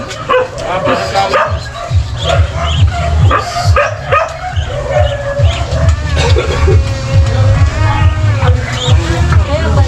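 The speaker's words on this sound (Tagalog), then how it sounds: "may naligaw na aso" A stray dog barks and yips repeatedly amid a busy indoor gathering at a barracks dance, with loud music and people talking over it throughout.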